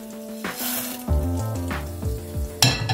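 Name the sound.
frying cumin, mustard seeds, curry leaves and lentils in oil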